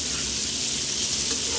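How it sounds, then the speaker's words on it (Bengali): Chopped onion frying with rice in a pan while cooking Bengali fish-head muri ghonto, a steady close sizzle with no talk. "পেঁয়াজটা হালকা করে ভেজে"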